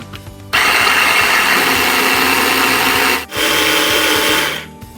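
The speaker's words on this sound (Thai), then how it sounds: "แล้วปิดฝา นำไปปั่นค่ะ" A blender whirs loudly and steadily as it purées a dip of chili, shallot, garlic, tomato, salt, fish sauce and fermented fish sauce, starting abruptly, dipping briefly once, then running on before cutting off.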